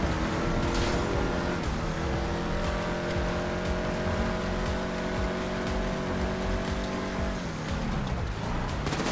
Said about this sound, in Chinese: 那台车好像不太好，在雪地里面开啊